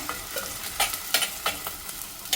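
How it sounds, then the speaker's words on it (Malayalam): Chopped onions are sautéed in a pan for a small fish curry. A soft continuous sizzle runs throughout, broken by repeated close scrapes of stirring, with no talking. "ഇത് നല്ലോണം മുരിഞ്ഞെടുത്ത് ഇപ്പോൾ സവാളൊക്കെ വാടി വന്ന്"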